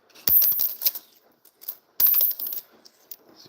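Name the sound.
copper or zinc penny dropped, ringing ping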